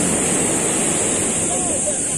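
Strong sea waves wash onto a beach at a Batangas resort, a steady, loud broadband roar of surf that fills the whole moment without pause.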